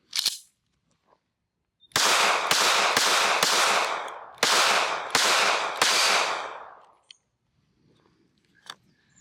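A SCCY CPX-2 9mm pistol fires about eight loud, sharp shots outdoors in two quick strings with a short pause between them. A few faint clicks and handling noises follow.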